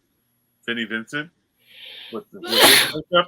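A loud, sharp sneeze bursts out right after a short stretch of speech, with a breathy intake just before it and someone talking on either side.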